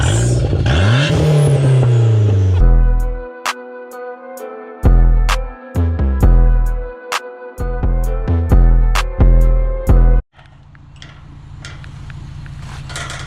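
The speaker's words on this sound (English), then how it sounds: "Listen to that turbo" A turbocharged car engine revs hard in repeated bursts, rising and cutting off between gear changes, with sharp pops and a whooshing turbo tone, loud and close.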